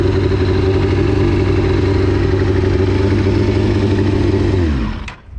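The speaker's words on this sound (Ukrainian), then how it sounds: "І ось мотоцикл гріється." A loud Yamaha R6 sport motorcycle engine idles steadily while warming up in a garage, with a deep, throbbing rumble, then winds down and cuts off near the end.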